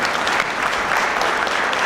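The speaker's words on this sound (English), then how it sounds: "Let's give Caroline a round of applause." Audience applause welcoming a guest named Caroline onto a small stage, a steady, dense wash of many hands clapping close by throughout, with no voices over it.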